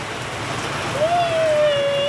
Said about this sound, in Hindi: आज तो तेज बारिश आ गई है गाइस